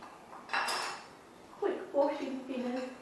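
Motorbike trials parts being washed in thinners inside an old glass dessert dish, giving a few clinking, rattling knocks of metal against the dish, close and fairly quiet, with some low voice sounds mixed in.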